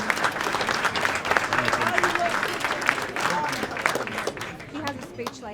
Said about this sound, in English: A big round of applause for our amazing priests